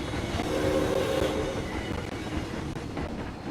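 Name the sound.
roller coaster train climbing a hill in video game Planet Coaster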